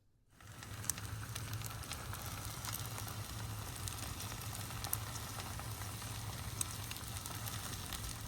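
Sausage and eggs sizzling on a Blackstone griddle at a campsite, a steady close crackling hiss that starts after a brief pause and runs evenly throughout with occasional sharper pops.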